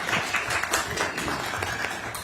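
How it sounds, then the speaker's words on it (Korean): An audience at a Korean official gathering claps together in a brief, dense burst of applause, with a voice faintly audible under the clapping. "박수 한번 쳐주시죠."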